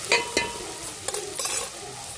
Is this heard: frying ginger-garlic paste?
yes